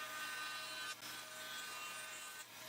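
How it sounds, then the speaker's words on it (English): Bandsaw blade cutting through a piece of wood for a guitar's cavity cover, a steady close hiss of sawing that runs continuously with two brief dips. "cut it out on the bandsaw"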